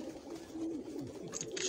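Pigeons on a rooftop cooing in a faint, continuous low murmur, a few overlapping soft coos with no speech.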